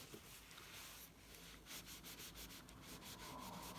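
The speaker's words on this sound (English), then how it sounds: "Just give that a polish" Paper of a handmade star card being rubbed and polished by hand, a steady close scratchy friction that runs continuously with small surges and no talking.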